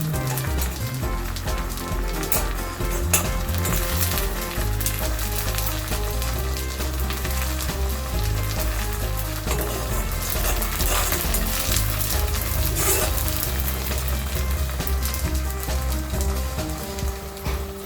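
Leaves roast in mustard oil in a pan, a continuous crackling sizzle with scattered pops and spoon scrapes, close and fairly loud throughout, no voices.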